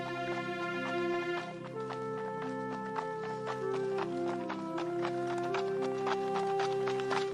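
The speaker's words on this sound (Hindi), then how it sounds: "फिर वह तीनों अपने अपने घोड़े पर सवार होकर निकल पड़ते हैं।" Horses ridden by three riders set off at a clip-clop pace in a Hindi cartoon, steady hoofbeats repeating through the passage under a sustained musical score.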